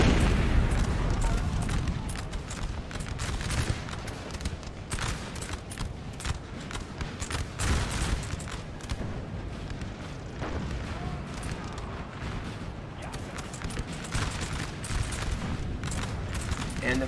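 Canister shot artillery thunders across a massive Napoleonic battle in the Napoleon Total War game, a dense, continuous barrage of booms and crackling volleys over a rumbling battlefield, with a voice talking over the din.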